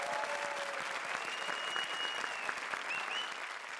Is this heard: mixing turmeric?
no